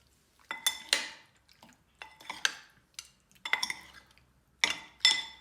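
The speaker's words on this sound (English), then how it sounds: "And mix it. It's a nice thick marinade." Utensil clinking and scraping against a bowl while mixing a thick steak marinade, in short separate bursts of clatter with quiet gaps between, close and moderately loud.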